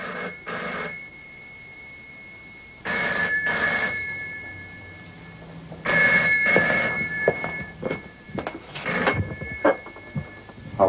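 A telephone bell rings in repeated bursts, about four double rings at roughly three-second intervals, loud and close with quiet gaps between. The calls are anonymous.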